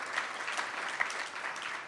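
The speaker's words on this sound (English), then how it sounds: "That deserves an applause." Audience applause at a county State of the County address, a steady wash of clapping filling the room for about two seconds, moderately loud and without voices.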